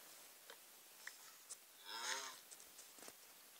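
A Minecraft cow lets out a single low, drawn-out moo near the middle, surrounded by faint clicks and small game sounds.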